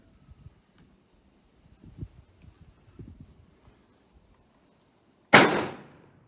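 A single loud Czechoslovakian Vz.24 Mauser rifle shot cracks sharply and rings out into a decaying tail at the end, after faint shuffling and low rustles.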